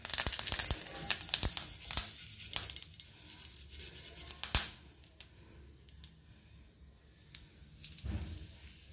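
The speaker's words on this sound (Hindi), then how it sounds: "जैसे ही राई तड़केगी तो हम थोड़ा कड़ी पत्ता डाल देंगे" Mustard seeds crackle and pop sharply in hot oil for a tempering, an irregular burst of spluttering that eases off midway and flares up again near the end.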